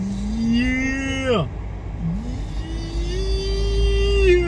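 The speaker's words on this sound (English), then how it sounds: "Look at the squatted truck." A squatted pickup truck drives past on a Zephyrhills, Florida street, its engine droning and rising in pitch with drawn-out revving tones, fairly loud and close, while someone briefly speaks.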